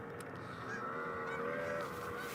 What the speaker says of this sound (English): And those are geese.